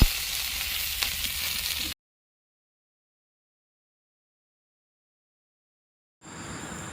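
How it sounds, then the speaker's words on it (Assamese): Potatoes and outenga (elephant apple) frying in mustard oil give a steady sizzle for about two seconds, then a long silence, then the sizzle returns faintly near the end. "তাতে মই ঔটেঙা কেইটুকুৰ দি আৰু অলপ সময় ভাজি ল'লোঁ।"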